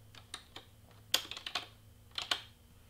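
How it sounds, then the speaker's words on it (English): Short bursts of keystrokes on a computer keyboard, entering a name in a craft design program, with a few scattered taps followed by two quick clusters of clicks, close and fairly quiet. "I'm going to type in Sarah"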